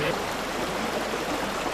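Steady rush of a river flowing during a crossing on foot, a broad, close wash of running water filling the brief moment.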